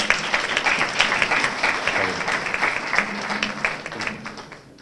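Steady applause from a graduation audience at a mathematics, computer science and physics department ceremony, a dense crowd of clapping hands with faint voices underneath, fading out toward the end.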